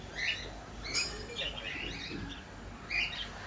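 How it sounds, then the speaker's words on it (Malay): Several birds squawk and chirp in short, harsh bursts, moderately close, over a low background hum, at Zoo Negara, Kuala Lumpur, Malaysia. "Ni burung bising ni."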